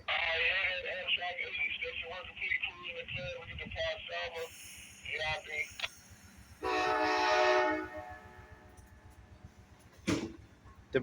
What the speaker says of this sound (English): I think we might have a CSX train.